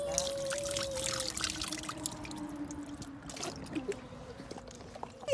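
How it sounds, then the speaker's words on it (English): A baby splashes water in a bath, the wet slaps and dribbles running close and fairly steady before easing off near the end. "She's splashing so much it goes in her face."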